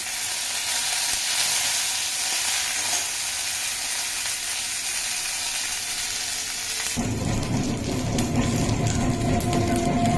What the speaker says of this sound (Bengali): ছোলার ডাল আর বিউলির ডাল ভাজা হয়ে গেছে। এবার কারি পাতা দেব।